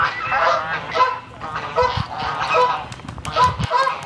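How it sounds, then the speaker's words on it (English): Geese honk loudly and repeatedly, close by and overlapping in a noisy, excited chorus outdoors where peacocks are being fed bread. "of course that brings all the ducks and geese too"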